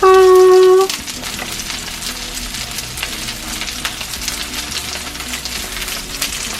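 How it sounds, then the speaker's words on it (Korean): Lotus root patties pan-frying over medium heat, a steady close crackling sizzle with fine popping spatter that runs on evenly after a brief tone at the start. "양면을 노릇노릇하게 부쳐주면 정말 맛있어지겠죠?"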